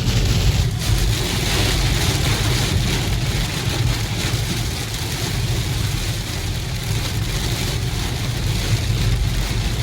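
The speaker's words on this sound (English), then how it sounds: "And we haven't seen any rain until today." Rain pelts a car driving along a state highway toward DFW on a rainy day, a steady loud wash of spray and road roar mixed with engine hum, continuous with no voices.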